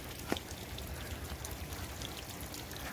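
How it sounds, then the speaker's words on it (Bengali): Steady rain patters and pours over a poultry farm in a soft, continuous wash, with one brief sharper knock near the start. "পুরো ফার্ম জুড়ে বৃষ্টি হচ্ছে"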